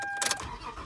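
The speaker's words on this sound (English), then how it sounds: "I'm gonna come out and start the car" A car engine cranks and catches in a brief burst, then settles into a low idle rumble, heard faintly from inside the vehicle.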